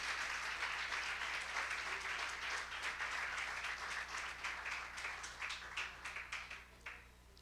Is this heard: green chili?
no